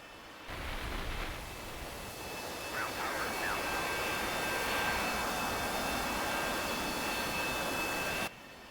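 An A-4E jet engine running steadily in the DCS World flight sim, a loud continuous roar with faint whining tones that holds level for about eight seconds before cutting off sharply, with no talk over it.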